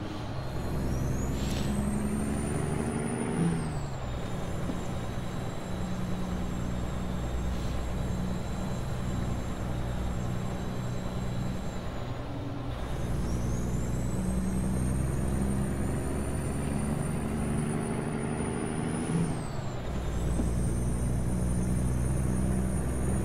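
Truck engine drone runs steadily throughout in American Truck Simulator, with two rising whines and sharp air brake hisses and releases around the fourth, thirteenth and nineteenth seconds, loud and close with no talk.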